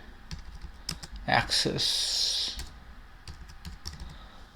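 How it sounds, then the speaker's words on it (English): Clicky typing on a computer keyboard with irregular keystrokes near the microphone, briefly joined by a person speaking. "for the reason box, type a text providing justification"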